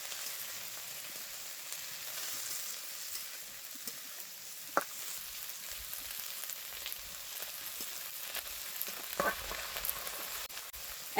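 Spring onion greens with salt and green chilies sizzle steadily in a pan, a close, even crackling fry with occasional sharper pops and light stirring, no voices.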